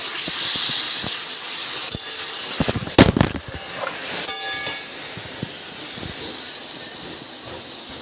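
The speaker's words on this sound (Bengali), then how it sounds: "এবার সোমবারটা দিয়ে দেবো, মানে তরকারিটা ওর মধ্যে ঢেলে দেবো।" Vegetables with paneer tip into hot fried spices, setting off a sustained, loud steamy hiss and sizzle with a sharp burst of crackling partway through, continuing without any talking.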